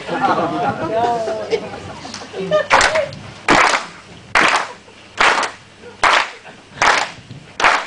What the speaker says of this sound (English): Can you all gently clap to the beat that I click my fingers?